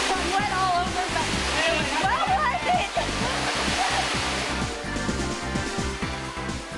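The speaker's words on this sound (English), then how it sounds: "First waterfall I've ever climbed" A waterfall on a mountain hiking trail in China roars steadily and loudly at close range, a dense unbroken rush of falling water with heavy low churning throughout.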